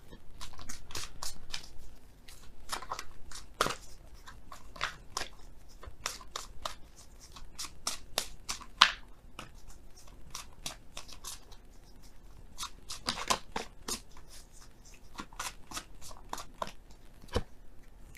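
Oracle cards are handled and shuffled at close range in quiet, irregular bursts of soft slaps, flicks and papery rustles spread across the whole stretch.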